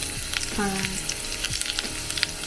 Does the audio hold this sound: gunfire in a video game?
no